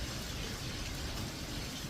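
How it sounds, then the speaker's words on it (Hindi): Steady winter rain falls on an early morning, heard from indoors by a hall window as a dense, even hiss with no pauses and no voices. "बारिश हो रही है तो नीचे नहीं जा सकता है"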